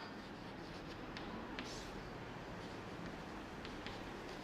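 Chalk or marker writing on a classroom board during a maths lesson on exponents, a steady soft scratching and rubbing that runs throughout at low level, with a few brief taps.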